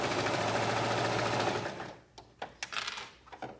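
A sewing machine stitching clear elastic stretched along a dress waistband runs in a steady, fast whirring rattle for under two seconds, then stops, leaving light clicks and fabric handling.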